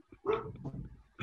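A device plays a recorded dog bark, a short burst of barking with a whimpering edge, close and alone with no talk.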